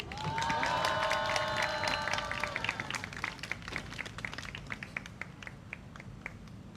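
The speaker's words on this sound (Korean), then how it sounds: "힘찬 박수 부탁드립니다" At a Homeplus labor rally in Gyeongnam, an outdoor crowd claps in a steady patter, with a few cheers and whistles near the start, then thins to scattered, irregular claps as it fades.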